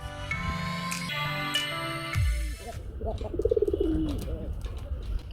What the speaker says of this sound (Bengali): কবুতরগুলোর ডাক